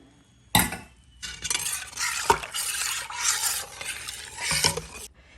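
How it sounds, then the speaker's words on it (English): Yogurt mixture is stirred in an Instant Pot insert, with a hard clank of the spoon at the start and then a steady, close scraping swish that rises and falls before it stops. "We'll stir that up."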